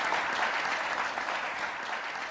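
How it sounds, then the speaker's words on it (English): Warm, continuous applause from a debate audience, a dense wash of clapping hands at a steady level throughout the short stretch. "Give her a round of applause as well."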